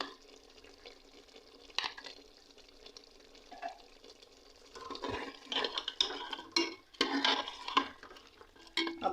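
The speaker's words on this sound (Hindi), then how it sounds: "अब एक बार इसकी भुनाई होने दें अच्छे से।" Mutton with yogurt and ginger paste frying in a pot for aloo gosht, with soft sizzling and spoon stirring that stay quiet at first, then grow into louder scraping and clattering toward the end.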